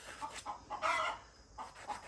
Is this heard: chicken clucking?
yes